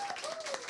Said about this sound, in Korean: 일본에 오신 분은 우리 앞에 우리 토모미상 앞에 계신데 박수로 환영하겠습니다